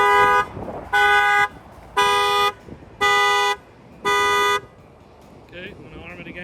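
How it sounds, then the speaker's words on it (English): Aftermarket car alarm set off by its shock sensor after a bang on the window, blaring five loud evenly spaced electronic tones, then a voice speaking as it stops. "The alarm will trigger."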